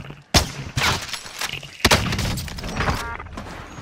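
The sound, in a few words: gunfire in the video game Warzone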